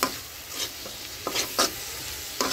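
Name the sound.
sautéing dried fish with pumpkin and turmeric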